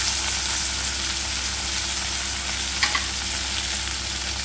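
Onions fry in a pan for samba wheat rawa kitchidi, a loud, continuous close sizzle with one brief clink of a stirring utensil midway and no talking.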